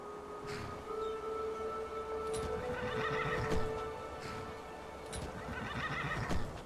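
A horse in the video game Enderal whinnies twice, several seconds apart, with soft hoof clops and a faint steady ambient tone underneath.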